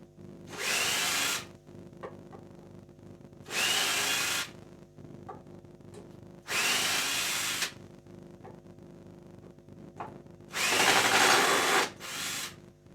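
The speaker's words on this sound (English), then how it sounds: "Let's grab our drill and just take that stuff off." Power drill working on a custom guitar build in a luthier's workshop, whirring in four loud sustained bursts of one to two seconds each, separated by short pauses.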